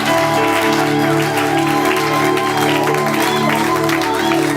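A church congregation claps and cheers as an offering of acclamation, with the clapping spread across the whole stretch and mixed with loud, sustained instrumental music.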